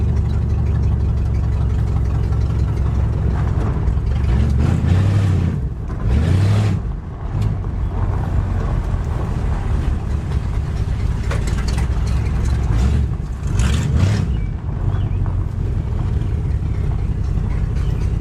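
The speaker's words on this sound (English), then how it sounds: "it seems to be running fine. It's just idling super low for some reason" A Ford Galaxy that sat parked for five years idles very low, giving a steady, close engine rumble that continues throughout with a few brief swells.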